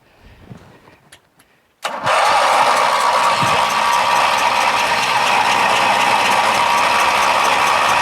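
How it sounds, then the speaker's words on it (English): Briggs lawn tractor engine after carburetor float leveling, cranking but failing to start: soft clicks, then a sudden loud, steady mechanical whir that holds unbroken for about six seconds, close and with no voices. "Man, it won't even start."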